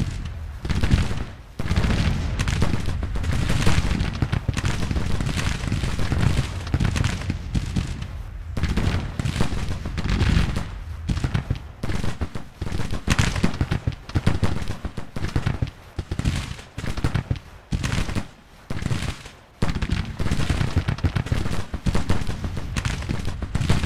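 Civil War musket volleys, a long dense crackle of massed rifle fire rolling on with repeated bursts and brief gaps, loud and close with no talk.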